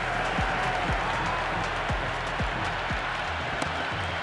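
Stadium crowd applauding and cheering after a batter hits a six over the boundary in the Cricket 26 video game, Pakistan versus Sri Lanka; a steady, dense roar of clapping fills the whole moment with no talk.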